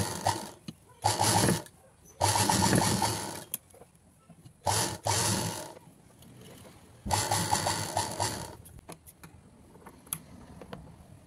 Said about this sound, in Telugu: అలాగే పైన కూడా ఒక స్టిచ్ చేసుకోవాలి.